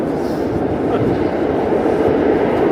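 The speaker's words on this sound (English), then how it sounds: "Train sounds." A train rumbles past nearby on a New York City street with a continuous low roar and faint rhythmic clatter, loud and steady throughout.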